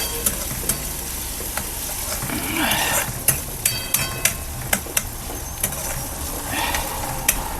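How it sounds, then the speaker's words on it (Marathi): Onion, garlic and ginger fry steadily in a pan with a continuous sizzle, broken by several sharp clicks and taps of a spoon stirring against the pan. "कांदा, लसूण, अद्रक हे दोन्ही मस्त बरोबर फ्राय होतं मस्त चांगलं."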